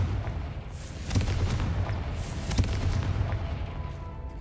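A Confringo fire spell bursts in Hogwarts Legacy, a heavy rumbling blast around one second in, followed by sustained booming, crackling rumble with a second punchy hit near two and a half seconds, loud and continuous with no talk.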